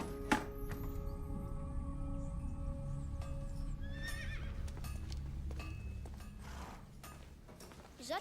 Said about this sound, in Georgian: არა, ეს ცხენია.